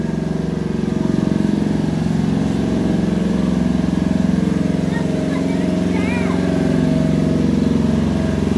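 A generator runs with a steady, loud mechanical drone outdoors on a street, holding constant throughout while faint voices and small background noises pass over it.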